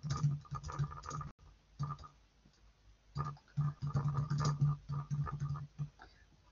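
Soft, close keyboard clicks arrive in quick irregular bursts with brief pauses as a comment is typed on a computer keyboard during grading.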